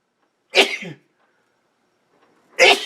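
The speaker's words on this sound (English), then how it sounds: "I'm gonna sneeze." A single sharp human sneeze bursts out close to the mic, followed by near silence and then a second short loud burst of breath at the end.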